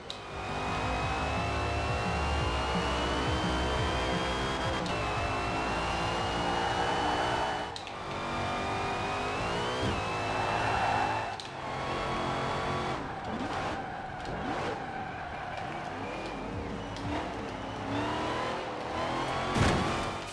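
Racing video game car with a sustained loud engine whine shifting pitch through gear changes and revving, accompanied by tire squeal and skidding throughout, no talk.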